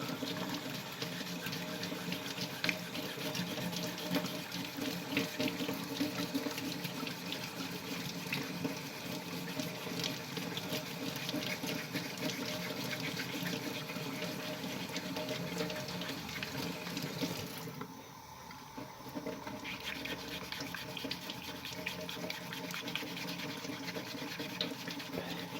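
Steady abrasive scratching of 600 grit sandpaper worked over an old, textured utensil, continuous and fairly close with no talk, dipping briefly near the end before resuming.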